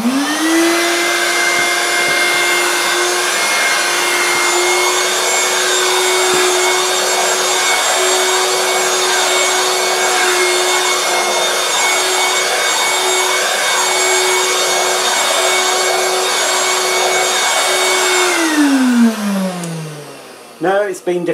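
A 1980s Moulinex Handivac hand-held vacuum cleaner whines steadily at close range as it sucks up dirt and dog hair, a constant motor drone with crackling debris, then spins down and stops near the end.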